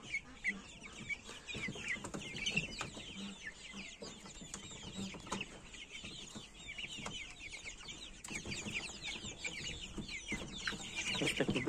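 Black Copper Marans and Mechelen chickens clucking and chattering nearby, a steady flock murmur with intermittent louder squawks, no talk over it.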